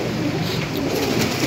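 Pigeons coo steadily and close by in a pigeon shop, a continuous low burbling mass of calls with no talk over it.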